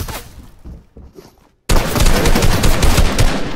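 Video-game gunfire erupts in a sudden, loud, continuous burst of rapid automatic shots after a quieter opening, sustained and close during a competitive team match.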